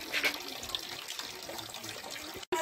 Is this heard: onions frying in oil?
no